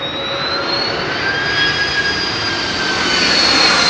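Jet airliner with CF6 engines arriving low overhead at Heathrow runway 27L, a loud roaring jet whine with high tonal engine whistles, building steadily as it passes close above.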